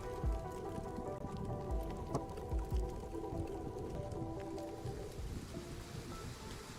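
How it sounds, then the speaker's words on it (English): Steady rain falling in a desert setting within a video game, a soft constant patter under a low sustained musical drone, quiet throughout. "it starts to rain in the desert"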